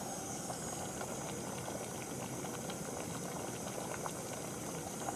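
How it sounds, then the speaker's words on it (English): Steady, vigorous bubbling of water at a rolling boil in a Jetboil Flash camp stove, a continuous dense churning roar with no pauses. "And it just started boiling."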